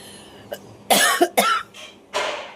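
Several sharp coughs from a person with a cold in a short burst, close and fairly loud, with brief pauses between them and no talking.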